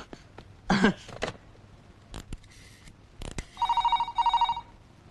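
A few clicks and handling noises, then a telephone rings in two short, trilling electronic bursts, fairly close and clear.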